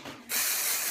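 Sea salt spray is misted onto hair from a pump bottle, a single sudden loud, close hiss after a brief quiet moment that holds steady to the end.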